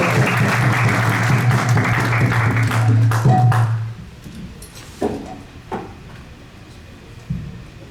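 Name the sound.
audience round of applause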